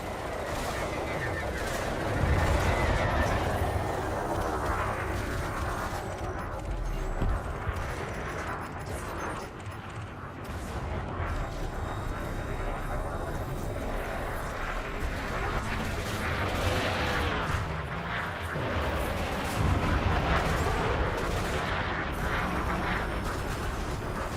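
Weapon hardpoint firing aboard a ship in Elite Dangerous: rapid, steady bursts of shots and impacts over a loud, dense engine drone, continuing across the whole stretch, with a voice talking at times.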